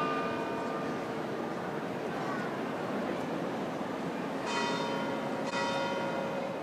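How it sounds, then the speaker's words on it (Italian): Church bells toll a death knell slowly in the distance during a patron saint festival, their ringing tones sounding in separate strikes over a dense, steady background rumble. "ha fatto suonare le campane a morto"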